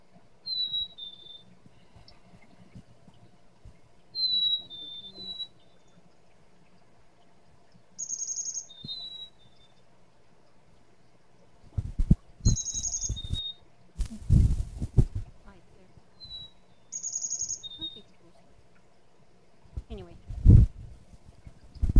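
Recorded chickadee calls played back through a speaker, several short high whistled and chirping phrases repeated at intervals, with louder thumps and room noise in between.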